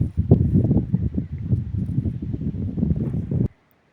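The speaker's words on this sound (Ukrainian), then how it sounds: "бо вітер дуже е, задуває" Low, gusty rumble of wind buffeting a microphone, loud and continuous for about three and a half seconds before cutting off abruptly.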